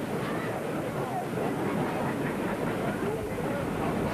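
Steam locomotive 6024 hauls a train on the mainline, a loud, continuous rumble with rail clatter running steadily throughout, with no talk.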